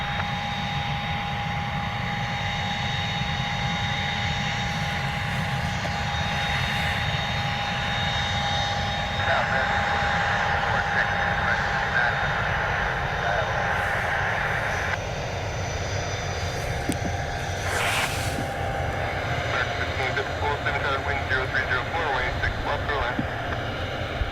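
A United Airlines Boeing 757-300 jet on a charter at Cleveland airport gives a continuous loud engine roar with a steady whine, heard close and sustained throughout while people talk and radio chatter comes through.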